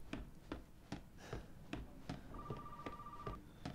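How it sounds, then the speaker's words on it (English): A telephone rings inside the house in Resident Evil 7: Biohazard, a faint repeating series of sharp ring pulses with a brief sustained tone midway, no speech over it. "Phone call."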